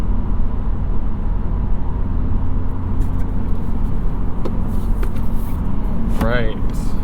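2022 Honda Civic Si with a 1.5-liter turbocharged engine accelerating on the highway, a steady low engine and road drone heard from the cabin, with a brief squeak near the end and a voice talking over it.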